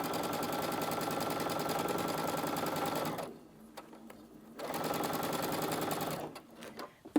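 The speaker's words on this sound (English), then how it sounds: "Let's just take a couple of stitches. And away we go. And I can just keep sewing." A sewing machine stitches through a puff quilt in fast, even bursts, pausing briefly between runs, close and clear with no talking over it.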